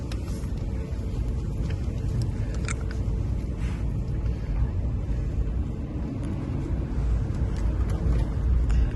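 An original Tesla Roadster electric car driving gives a steady low road and cabin rumble with some wind noise. It is quiet and even throughout, with no engine note.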